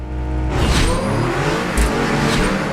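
A car engine in the video game Super Street revs up loudly and steadily, with a whooshing surge partway through, sounding synthetic and continuous without any talking.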